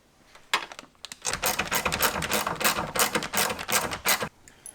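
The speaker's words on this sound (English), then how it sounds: "So continue tightening up these bolts." Bolts tightened on a Subaru WRX side mirror mount during a turn signal install, close ratcheting clicks in a steady busy run lasting a few seconds, with no voices.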